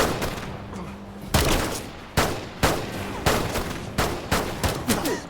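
A burst of gunfire in a film shootout between police and a robber: several loud, sharp shots crack out at irregular intervals, close and echoing, with a low rumble of background noise between them.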